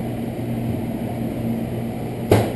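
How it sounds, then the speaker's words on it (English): Steady low hum of a microwave oven heating white corn tortillas, constant and moderately quiet, ending with a brief louder clunk near the end. "heating up some white corn tortillas in the microwave just for a few seconds"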